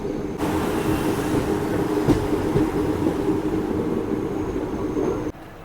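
Steady low rumble of a moving train heard from inside on the Goa route near Dudhsagar, continuous and even, with a faint clatter now and then before it drops off at the end.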